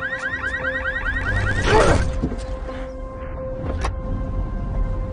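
A car alarm blares during a bank break-in, loud and close. It warbles with rising, repeating sweeps, then holds a steady tone over a low background rumble.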